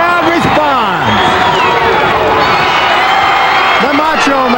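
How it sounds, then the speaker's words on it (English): Wrestling arena crowd roars and whoops continuously at an ICW match featuring Randy Savage, loud and dense, with excited commentary running over the noise throughout. "The crowd responds."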